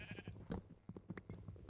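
A sheep in the Minecraft video game gives a short series of quiet bleats, close and alone with no talking.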